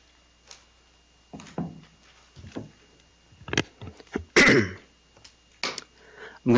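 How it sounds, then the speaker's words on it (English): Someone clears their throat in a quiet courtroom, a few low gruff rasps and a sharper cough-like hack amid soft scattered rustling. "I'm going to apologize now as I constantly clear my throat this morning"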